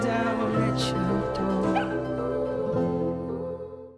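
A small dog whimpers and yips in a Super Bowl commercial, its thin, plaintive cries heard over steady music.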